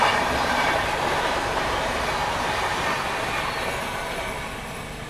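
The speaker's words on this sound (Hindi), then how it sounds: "पहले अच्छी स्पीड से ओवरटेक नहीं किया था महाकौशल ने, इसलिए अभी वापस से ओवरटेक हो रहा है अच्छी स्पीड में।" Mahakaushal Express overtaking on the parallel track at good speed, heard from a train alongside: a loud, continuous rush of rolling wheels and rail clatter that slowly fades toward the end, with no voices.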